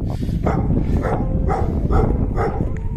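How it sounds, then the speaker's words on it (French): Several dogs barking repeatedly nearby, roughly evenly spaced barks over a loud, rumbling background of wind or traffic. "à chaque fois on se fait aboyer dessus"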